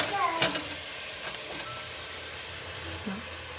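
Seasoned shrimp frying in a pan for a shrimp and gumbo dish, a faint, low hiss of sizzling with a few soft clicks and scrapes, brief murmurs of voice in the background.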